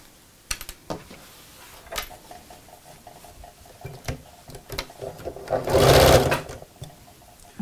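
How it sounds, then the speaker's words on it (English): A sewing machine stitches a tote bag with a dividing pocket, a close whirring run near the end after scattered clicks and fabric handling, with no talk. "And sew straight down."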